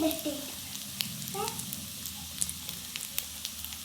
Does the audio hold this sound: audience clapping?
no